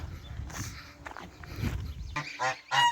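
Ducks honking on a village farm near Taif, Saudi Arabia, with a few loud, close honks bunched toward the end over a low rustle of movement.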